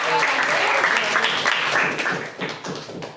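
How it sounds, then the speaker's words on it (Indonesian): Students in a classroom clap together for a few seconds, a dense burst of handclaps with some chatter mixed in that thins slightly toward the end. "boleh berikan tepuk tangan"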